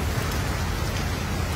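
Heavy rain pours onto a flooded city street during a storm in Joaçaba, a dense, unbroken roar of downpour close by, with no voices.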